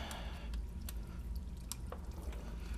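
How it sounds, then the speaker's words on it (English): Oil drips from the engine of a 2002–06 MINI Cooper S with a leaking rear main seal, after removal of a dust shield, in a handful of close, irregular drops over a low background hum. "It's dripping just from removing this dust shield."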